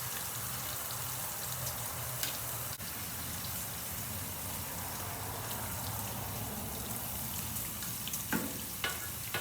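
Thin homemade barbecue burgers fry in a hot pan, a steady close sizzle and crackle running throughout with a few brief sharper spits near the end, no talking.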